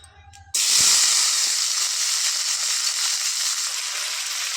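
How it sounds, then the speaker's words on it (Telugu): Tomato pieces drop into hot oil in a pan for fenugreek leaf chutney, bursting into a loud, close, sustained hissing sizzle that stays steady after a quiet start. "కొంచెం ఆయిల్ వేసుకొని టమాటా ముక్కల్ని వేసి వేయించుకోవాలి"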